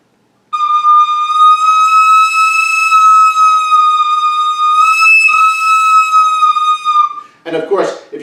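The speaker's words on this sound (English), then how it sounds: "if you put too much pressure on the pipe, it will change the pitch" Soprano recorder holding a bright, steady tone whose pitch creeps upward as more breath pressure is pushed into the pipe, ending in a brief breathy rush; no talking.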